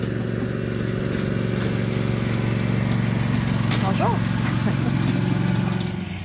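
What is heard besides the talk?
tractor passing by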